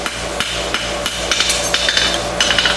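A hammer's round side strikes hot steel on an anvil, forge-welding a bar shoe's frog plate, in a quick series of sharp ringing blows, loud and close, with short pauses between bursts.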